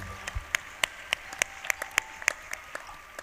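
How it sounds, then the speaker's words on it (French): A small studio audience claps in sparse, distinct hand claps spaced around a third of a second apart, sharp and close, over a quiet background. "On peut les applaudir."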